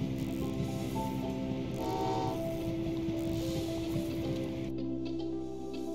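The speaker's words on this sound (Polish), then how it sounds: "To wyślijmy te pociągi ze sztabkami." A train rolls along in the Train Valley 2 video game with a steady mechanical rumble and a brief whistle-like tone partway through, continuous and fairly loud, then it cuts to a quieter hum near the end.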